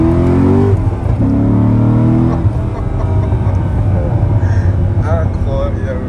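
Corvette Z06 with a 7-liter V8 and six-speed manual accelerating hard from inside the car, a loud rising engine roar that climbs, drops at a shift and pulls again, with voices talking over it.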